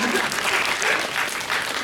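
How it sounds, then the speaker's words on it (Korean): An audience at a film screening Q&A applauds steadily, dense clapping filling the short moment without any talking. "박수 부탁드립니다"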